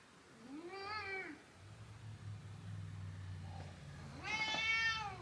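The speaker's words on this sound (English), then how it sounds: "Oh, my cat is here." A house cat meows twice at close range, a rising-falling cry followed after a pause by a louder, longer one, with a low engine-like hum between.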